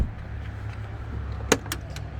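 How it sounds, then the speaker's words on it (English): A heavy, solid car door shuts with a single firm clunk followed by a couple of lighter latch clicks, heard against a low steady cabin hum. "I like really solid clanking doors"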